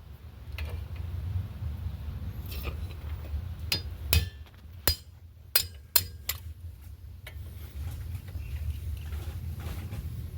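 Several sharp metallic strikes ring out at uneven intervals over a steady low engine-like rumble as a punch is hammered to drive out brake pad pins on a C7 Corvette Z51.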